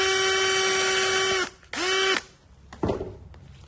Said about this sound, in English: Maybe I'll just drill that one more time, just to make sure.